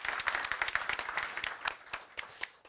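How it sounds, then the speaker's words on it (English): An audience at the 2024 NATO Youth Summit in Stockholm breaks into brief applause, with sharp, close clapping that swells and then thins out over a couple of seconds. "An applause for that"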